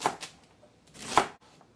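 A knife chops vegetables for chicken chow mein on a stiff cutting board, landing two or three soft, dull strikes spaced unevenly over a quiet background, close up.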